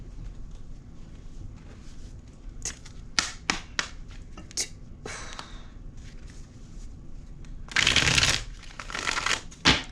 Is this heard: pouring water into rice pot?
no